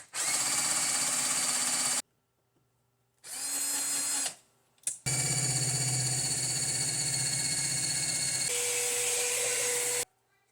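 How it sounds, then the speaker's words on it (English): A new power drill bores holes through two stacked wooden frame pieces, whining loudly in three close bursts: a short run, a brief one, then a long steady spell with a shift in pitch near the end. "go to drill these holes, I'll be drilling through both pieces"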